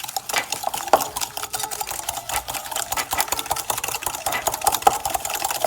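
Egg yolks beaten with sugar in a bowl, a steady dense rattling whir of the whisk or beater running continuously up close with no pauses.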